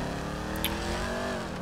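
A sports car engine in GTA 5 revs steadily and loudly, its rising harmonic drone filling the clip with a brief whoosh passing partway through.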